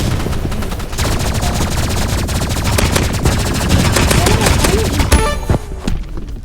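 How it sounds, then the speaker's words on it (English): Rapid, continuous paintball gun fire in the Roblox game Rivals, a dense stream of shots filling the whole stretch, with game effects and a rising electronic tone near the end. "today we are only going to be using paintball guns"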